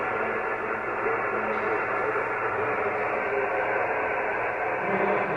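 Dense, steady hiss of static fills a ham radio receiver during a Field Day contest, with any weak distant station buried too far down in the noise to make out.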